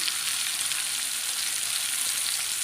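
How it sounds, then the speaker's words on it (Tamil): Fish sizzles steadily as it fries in a hot pan of oil, a dense, continuous crackle with no voices over it. "நான் ஊற வைக்காமல் நான் இந்த மீனை வந்து வறுத்து காமிச்சிட்ருக்கேன்"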